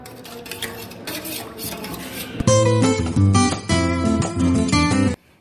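A spoon stirs a nilavembu herbal drink, giving quick clinking and scraping against the cup for about two seconds. Loud music with a steady beat then takes over until near the end.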